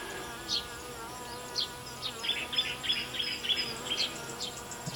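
Honeybees buzz in an open hive during an inspection, a dense steady hum with individual bees whining in and out close by, loud and continuous with no talk.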